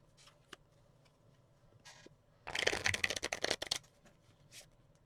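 A deck of cards is shuffled during a tabletop APBA Soccer board game, a loud burst of rapid riffling flutter lasting about a second, with a few faint handling clicks before and after in a quiet room.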